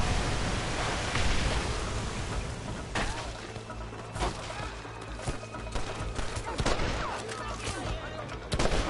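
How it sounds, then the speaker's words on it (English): Dense gunfire and scattered shots during an assault on Fort Mercer in a Western-themed video game, with Marston's side under fire; the shooting rattles steadily under a constant noisy din, with voices shouting over it. "You're shooting down on us!"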